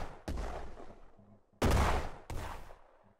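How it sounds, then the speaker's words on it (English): Shots from a towable heavy gun hit a tank in the Brick Rigs Lego battle game: three loud, sharp blasts, each trailing off in a rumbling decay, evenly spaced and close. "Let's try taking a shot at the tank."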